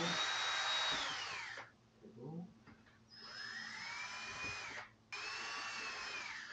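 A cordless power drill spins in short bursts while backing screws out of a smart door lock, with two whirring runs that rise and fall in pitch, separated by pauses and close up.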